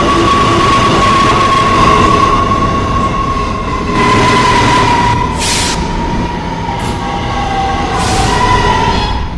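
A PTA N subway train runs loudly and steadily, with a droning motor whine. Brief hissing bursts and faint wheel squeal come through the rumble, and no one speaks.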